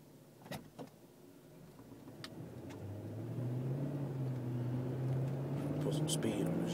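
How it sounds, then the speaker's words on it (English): A car drives with a rubbing noise, its engine and road noise building steadily as it speeds up, with a low droning tone rising underneath, faint and distant, with a few knocks near the start. "now it actually sounds like something is rubbing bad."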